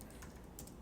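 Light typing on a computer keyboard, a short run of soft, quick key taps, faint and close with no voices.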